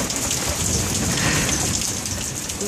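Heavy rain pours steadily during a Texas thunderstorm under tornado warnings, a dense, loud, continuous patter of drops on surfaces with no voices.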